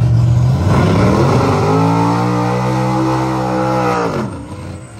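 Cars launching at a small-tire and big-tire drag racing event, a loud, close engine roar that climbs in pitch through the gears and then drops away after about four seconds.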